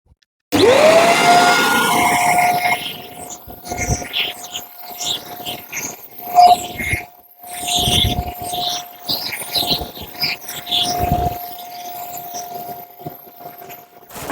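A new vacuum cleaner switches on with a rising whine and then runs loudly and steadily, its motor hum wavering and surging as it is moved about, with brief dips and bumps throughout.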